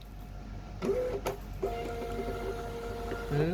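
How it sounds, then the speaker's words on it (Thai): A Gprinter GP1924D thermal label printer prints a Shopee shipping label, whirring in a steady mechanical feed with a couple of brief clicks and motor pulses, close and alone. "เลือกเครื่องพิมพ์เป็น G printer GP 1 9 2 4D นะครับ แล้วก็กดพิมพ์ได้เลย"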